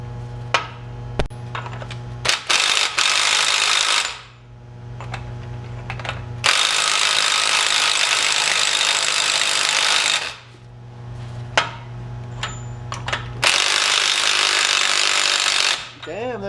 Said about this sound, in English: We'll hammer that on there with the impact and see what happens.